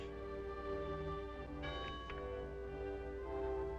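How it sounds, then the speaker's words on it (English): A small-town church bell tolls on Sunday, its ringing tones layered and sustained over a faint background hum, with a few fresh strikes swelling partway through and no voices. "the tolling bell summons the faithful to their church"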